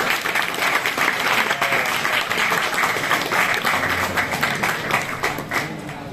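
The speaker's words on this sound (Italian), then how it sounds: "Vi chiedo di fare un grandissimo applauso a Mr." Applause from a comics convention panel audience at Etna Comics, a sustained dense roar of many hands clapping, steady and loud throughout, with faint crowd murmur beneath.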